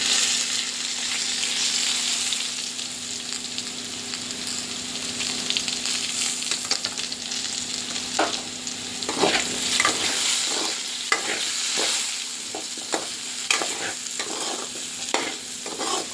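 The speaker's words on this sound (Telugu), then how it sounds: "అడుగంటకుండా కలుపుతూ ఉండాలండి" Potatoes fry with curry leaves in a pan, a steady close sizzle broken by repeated scraping strokes of a spoon as they are stirred, the stirring growing more rhythmic toward the end.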